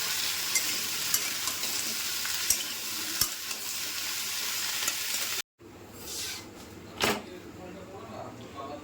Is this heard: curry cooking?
yes